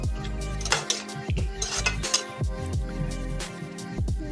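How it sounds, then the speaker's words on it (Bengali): Small puti fish curry (chorchori) stirred in a metal pot, with repeated clanks and scrapes of a spoon against the pot and a lid clattering on, several sharp metallic knocks at an uneven rhythm. "এরপরে আমি নাড়াঘাটা করে ঢাকা দিয়ে দেবো।"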